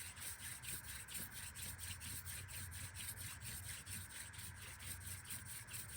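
A wooden hand drill spindle is spun between the palms on a fireboard for a friction fire, giving a faint, steady rhythmic rubbing and scraping that repeats quickly throughout.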